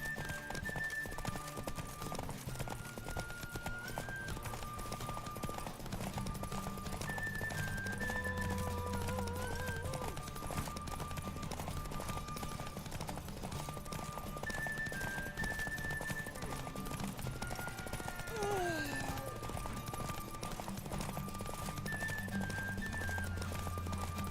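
Horse hooves clip-clop continuously in the Witcher 3 video game, a steady trotting rhythm heard under game music with faint other sounds and no speech.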